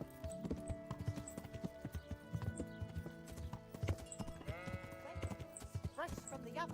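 Horse hooves clip-clop steadily at a quick trot in Kingdom Come: Deliverance, a close, rhythmic patter of strikes running under someone talking in Spanish.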